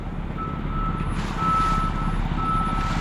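A concrete truck backs up at a driveway job, its steady reversing beeper repeating in regular pulses over a loud, continuous diesel engine rumble close by.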